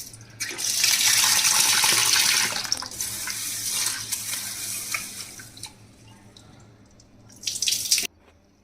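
Horse gram being washed under running water, a loud tap stream pouring for a couple of seconds and then easing into softer splashing and handling, with a short final burst of running water before it stops.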